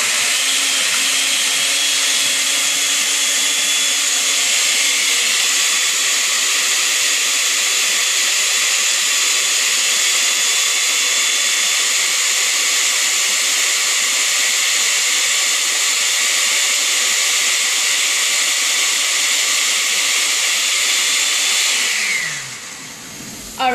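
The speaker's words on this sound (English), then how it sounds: "So I'm gonna go ahead and put the blender, and it's already connected," Kitchen blender running continuously while blending beans with coconut oil, a loud steady motor whine with a high buzzing roar that holds for over twenty seconds before winding down abruptly at the end.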